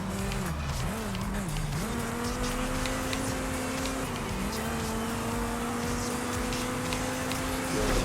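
A race car's engine holds a steady high drone while racing against a Mustang in Forza Horizon 5, the pitch dipping briefly at gear shifts, with faint tire noise under it.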